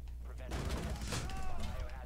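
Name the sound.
shotgun fire in the video game Rainbow Six Siege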